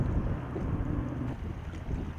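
Strong gusty wind buffeting close by, a heavy low roar that swells and eases without pause.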